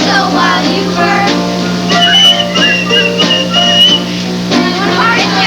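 A performer in a 1988 stage show whistles a melody, with clear, bright tonal phrases over a steady musical backing, loud and close.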